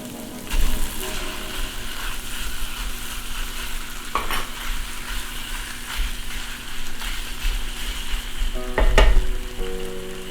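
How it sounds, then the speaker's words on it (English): Ricotta, Monterey Jack and extra sharp cheddar being stirred into cooked summer vegetables in a pan, a steady wet scraping and gentle sizzle running throughout, with a couple of louder clanks of the utensil against the pan. "we're going to give this a good stir"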